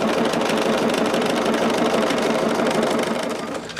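A sewing machine stitches a French seam in fabric, a rapid continuous mechanical whir running close and steady before easing off at the end, with no talking.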